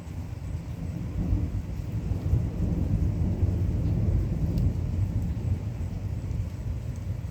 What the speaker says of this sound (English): Yep, thunderstorms.